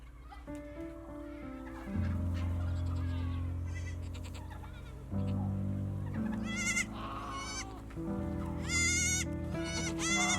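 Several baby goats bleat indoors in a house, their loud, wavering cries repeating close by in quick overlapping bursts, with occasional fowl-like calls mixed in.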